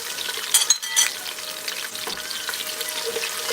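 Onion hits a hot pan for jollof rice, a crackling sizzle with a couple of sharp spits early on, then steady close frying with small pops.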